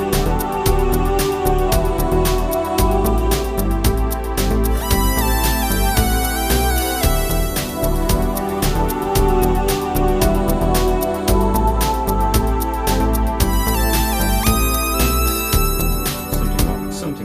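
A Roland Juno-D synthesizer plays a sequenced backing for a song cover, with loud, dense layers of pulsing bass, chords and rhythmic percussion running steadily throughout, no voices.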